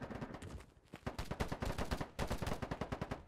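Rapid automatic gunfire hip-fired in the video game Polygon, a dense burst of close, loud shots with a brief pause before a second sustained volley, no talk over it.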